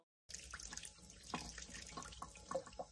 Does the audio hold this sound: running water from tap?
yes